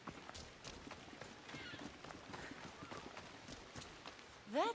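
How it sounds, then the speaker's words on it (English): Horse hooves clip-clop at a steady walk in Assassin's Creed Odyssey, soft and low under faint game ambience, ending with a brief whinny-like tonal sound. "It's a very nice horse. A sturdy horse."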